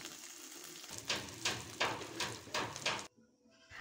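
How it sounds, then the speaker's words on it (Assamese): Dried sea fish fries in a pan, with a loud sizzle that swells in several bursts as it is stirred, before cutting off abruptly near the end. "আৰু তাৰপিছতে মই দিম শুকান মাছখিনি, আৰু শুকান মাছখিনিও ভালদৰে ভাজি ল'ম।"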